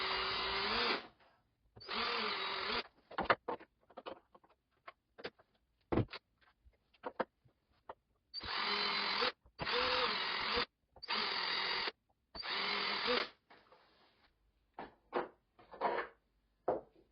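A small power drill with a 1.5 mm bit bores holes into the wing cover mounts of a Carbon Cub model aircraft, in repeated whirring bursts of about a second each, separated by quiet pauses and small clicks.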